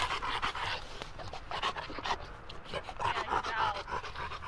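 An iguana hunting dog pants rapidly and loudly up close, quick rhythmic breaths running continuously through the moment with no speech over them.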